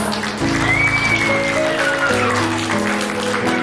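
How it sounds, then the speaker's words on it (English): Guests at an 80th birthday celebration applaud in a steady, close wash of clapping, with music tones running underneath throughout. "Can we give him a round of applause?"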